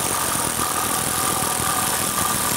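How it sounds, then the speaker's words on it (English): A power ratchet drives a Vespa scissor jack, giving a steady, loud mechanical whirring hum with a faint rattle that runs unbroken throughout, with no voices. "Obviously, it looks nice and easy when you have a power ratchet like this."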